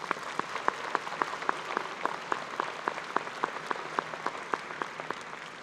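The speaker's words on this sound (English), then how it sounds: "Let's give them a round of applause" Graduation ceremony crowd applauding staff at a high school commencement, heard as a soft, distant wash of clapping with a few sharper individual claps rising out of it, all quite faint.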